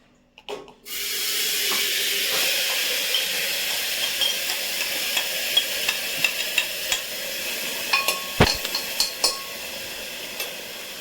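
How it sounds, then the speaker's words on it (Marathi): Biryani ingredients frying in hot oil give a steady, close sizzle that starts abruptly and holds throughout, with occasional sharp stirring clinks and scrapes against the pan. "आता हे तेलामध्ये आपण फ्राय करू"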